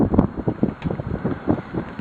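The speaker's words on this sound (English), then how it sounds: "I can't even hold stuff down because the wind is blowing so much" Strong outdoor wind buffeting a microphone beside a Predator 212 engine, loud rumbling gusts pulsing irregularly with no speech.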